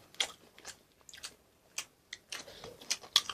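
Close, crunchy chewing of fried chicken during a Korean mukbang eating session, with a string of distinct bites and crunches spread across the moment, loud and near with no talk.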